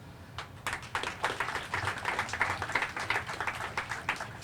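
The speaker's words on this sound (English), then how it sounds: "We're clapping for you, boss" Applause from a crowd at a Waterbury, Connecticut event on a child tax rebate, a steady wash of many hands clapping that keeps going through the whole stretch at a moderate, even level.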